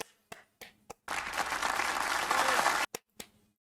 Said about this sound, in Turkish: Kaşio'yu bir alkışlıyoruz arkadaşlar.